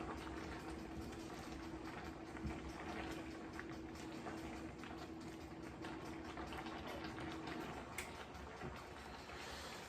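Water boiling in a pot for spaghetti, a steady faint bubbling hiss with a constant low hum underneath, continuous for the whole stretch with no voices.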